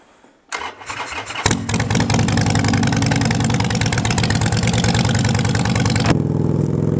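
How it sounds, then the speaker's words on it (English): A Harley-Davidson 72 motorcycle cranks and fires up, then settles into a loud, close, throbbing idle with a steady rumbling beat, no voices over it. "it's a Harley-Davidson 72."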